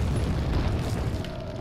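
An explosion in the Resident Evil 4 video game rolls out as a deep, muffled boom with a low rumbling tail that slowly fades, heard alone at moderate loudness.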